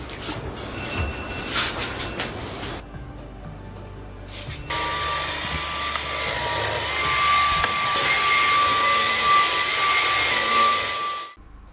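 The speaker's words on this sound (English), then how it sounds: "vacuum the mattress and clean the floor" After some shuffling, a vacuum cleaner starts up and runs with a steady, loud whooshing whine as it cleans a trundle bed mattress, continuing alone until it cuts off abruptly.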